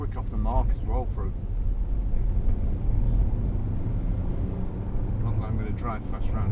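A 2012 Range Rover Sport with the 3.0 SD V6 diesel pulling away from inside the cabin, a low, steady engine rumble building under the speed, with someone talking briefly over it near the start and end.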